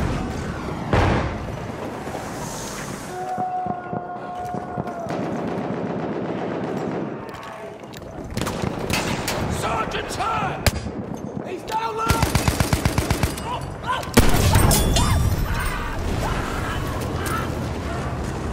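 Machine gun fire in the World War I shooter game Battlefield 1, rapid bursts and single gunshots rattling over a dense battlefield din, with distant explosions and shouted voices in the mix.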